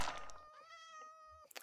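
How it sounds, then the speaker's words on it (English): Meowing of a cat mob in Minecraft, a single drawn-out tonal meow heard clearly and close, followed by a brief soft thump at the end. "A cat meowing."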